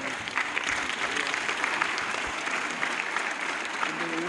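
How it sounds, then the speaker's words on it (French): University students standing on a visit to the Assemblée nationale applaud the questeur, a continuous, dense round of clapping close by with some murmured voices mixed in. "Tout le monde se lève et on applaudit le questeur."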